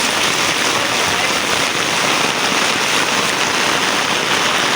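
Heavy rain pours steadily on a city street, with gusting wind, a dense, unbroken hiss close by that holds level throughout with no voices.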